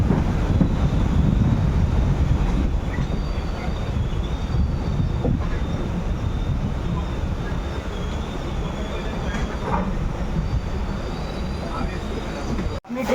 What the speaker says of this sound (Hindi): अपनी ट्रेन अराइव की है बागडोगरा में।